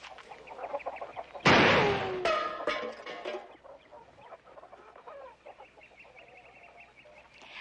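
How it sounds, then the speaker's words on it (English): Chickens in a coop cluck close by, with a sudden loud squawk followed by a fluttering burst of agitated clucking that settles into quieter, scattered clucks, with no talking. "We didn't know there was chickens in there."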